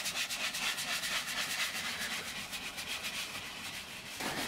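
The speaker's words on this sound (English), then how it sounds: "Start scrubbing the leather, paying attention to areas that may be dirtier than others" Leather car seat scrubbed with foaming liquid leather cleaner and a brush, a steady close rubbing and scratching texture that runs continuously with a slight shift near the end.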